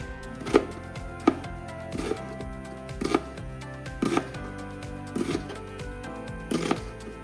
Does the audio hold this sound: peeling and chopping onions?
yes